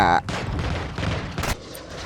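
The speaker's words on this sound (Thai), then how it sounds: "ใครยิง มีคนแอบยิงตามข้างหลัง" Gunfire in the video game Warzone 2.0, a short burst of loud rapid shots with a sharp crack near the end, heard close with a voice talking over it.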